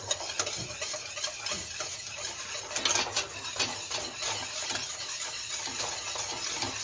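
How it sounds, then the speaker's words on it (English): A spoon scrapes and swirls steadily through thick pie filling in a pot, a soft continuous stirring with occasional louder clinks against the metal, fairly quiet and with no talking. "You got to stir it constantly and a pretty good whiskey stir on this one."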